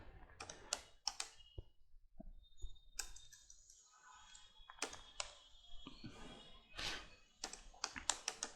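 Typing on a computer keyboard while configuring basic authentication in Nginx: quick irregular clicks and key taps in bursts, with brief pauses and a few heavier strokes, close but faint, no voices.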